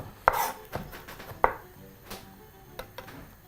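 A curved-base chef knife chops food on a board: a few sharp, close knocks at irregular intervals, loud then fainter, with quiet gaps between and no talk.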